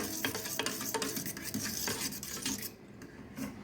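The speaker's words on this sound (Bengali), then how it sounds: "দেখো এবার সবটাকে আমরা মিশিয়ে দেব" A spoon stirs thick yogurt and honey in a bowl for fruit raita, making soft, close scraping and occasional light clinks against the bowl, fairly quiet throughout.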